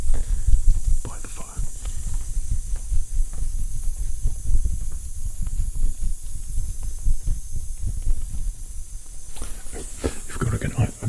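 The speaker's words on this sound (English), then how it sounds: "It's just a lot of steam." Steam hisses steadily from a very hot, simmering shaving towel at a barbershop shave, a close, continuous airy rush with soft crackles and rustling, no clear talk.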